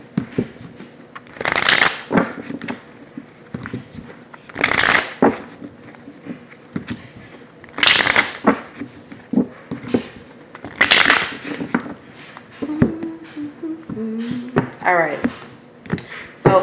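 A deck of tarot cards being shuffled in repeated riffling bursts every few seconds, close and fairly loud, with a brief stretch of talking near the end.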